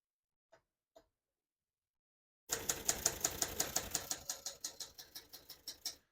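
Keys clack on a 1977 Adler J2 vintage portable typewriter in a quick, steady burst of close, crisp strikes after a near-silent pause with two soft clicks.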